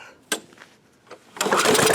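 A 1986 Murray lawn mower engine with a manually held choke is pulled over twice with short rasps, then catches and runs loud and close to the end with no talk.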